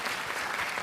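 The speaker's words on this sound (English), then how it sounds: "So clap it up for Lori" Steady, dense applause from an audience at an admitted students open house, filling the short moment evenly without any voices on top.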